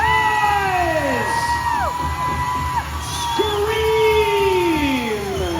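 Powwow crowd at the Spokane Tribe's Wellpinit gathering cheering, whooping and shouting in loud, overlapping rising and falling calls that fill the whole stretch.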